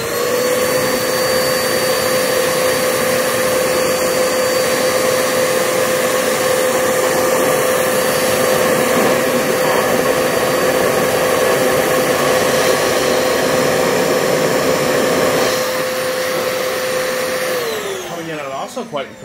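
A Kenmore vacuum cleaner runs at full power through an airflow test, a loud, steady high-pitched whine with a constant tone that holds nearly the whole time before spinning down at the end.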